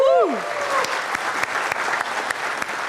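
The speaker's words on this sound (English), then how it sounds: "please keep that applause going for Dorca, the organizing team, the volunteers" Conference audience applause at a keynote gathering, steady moderate clapping from a crowd, opening with a brief voice over the start before the clapping continues alone.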